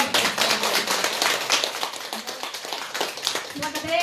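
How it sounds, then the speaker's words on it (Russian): Audience clapping at a live business meeting in Yakutsk, a dense, continuous patter of many hands filling the room, fairly loud and steady throughout with some talk at the end. "Поздравим их хлопками, давайте."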